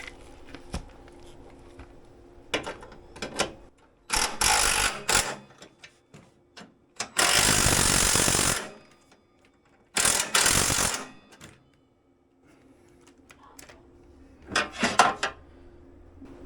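Ratchet turning a stripped 12-point socket on a stubborn fastener: bursts of rapid close clicking between quieter pauses with occasional knocks, loud and alone.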